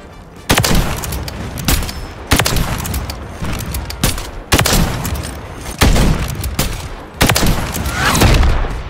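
Call of Duty match with incendiary rounds: five loud, close bursts of automatic fire, each a dense rattling volley lasting about a second and then trailing off, spaced evenly over several seconds.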